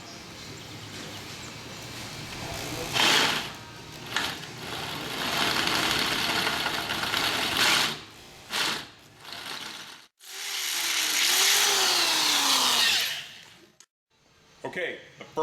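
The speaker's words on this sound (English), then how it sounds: "the first 7/16 hole is drilled" A power drill bores a 7/16 hole into a motorcycle swing arm, whining in long loud bursts with short pauses, then a rising and falling pitch near the end, close up with brief talk.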